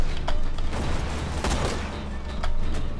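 Grenade blast and battle noise in Borderlands 2, a dense rumbling barrage with sharp cracks scattered through it, loud and continuous with no clear gap.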